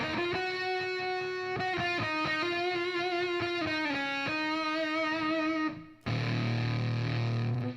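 A buzzy, distorted synthesizer lead plays a stepping melody in sustained notes, loud and upfront, then cuts abruptly into a harsher, noisier texture.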